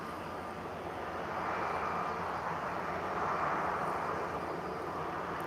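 An EasyJet airliner departs Lisbon Airport for Madrid. A faint, distant, steady jet roar swells slightly and holds, heard on its own with no talk.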